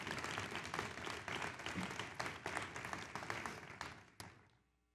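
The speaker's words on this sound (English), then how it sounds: "How about a nice round of applause?" A conference audience breaks into a hearty round of applause at a closing plenary, dense and fairly loud clapping with a few sharp individual claps, tapering off and fading out near the end.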